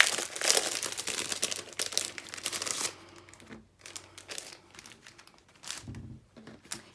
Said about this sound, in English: Again, sorry for the crinkling.